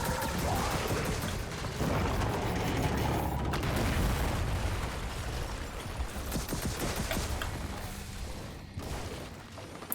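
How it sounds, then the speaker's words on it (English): Airstrike explosions in Gears of War 4 roll as a dense, continuous roar of blasts and booms that stays loud throughout, with a heavy low rumble and crackling debris layered on top. "Call it an airstrike!"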